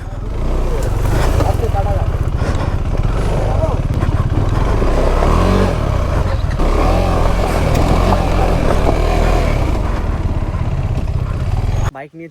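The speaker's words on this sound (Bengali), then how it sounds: "এবার আমি যাচ্ছি বাইক নিয়ে" A motorcycle on a group bike tour from Kolkata to Purulia rides off with a loud, close engine drone and rough clatter that holds steady for several seconds before cutting out, with voices mixed in.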